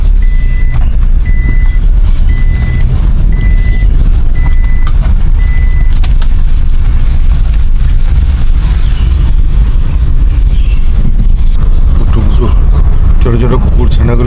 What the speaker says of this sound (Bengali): ওহো, টি টি টি টি করছে, সিট বেল্টটা বাঁধা হয়নি।